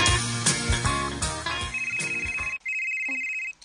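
A phone ringtone plays loudly and up close for an incoming call, with a melodic tune and then a repeated high electronic ring.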